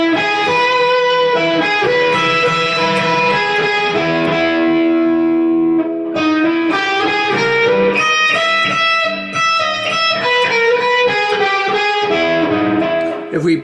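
Electric guitar with effects rings out a chord, then a run of notes, with sustained, slightly distorted tone and a brief dip before resuming.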